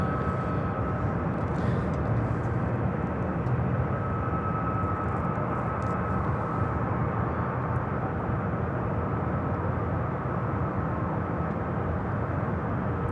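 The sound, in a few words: McDonnell Douglas MD-11 jet rolling at Louisville airport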